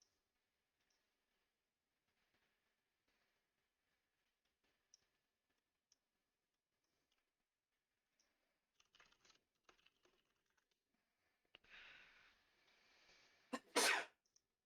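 A single sharp sneeze bursts out near the end after a long quiet stretch of scattered keyboard clicks and small ticks, loud and close.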